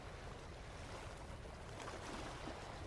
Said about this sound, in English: Are you saying SpongeBob just because you hear water sounds?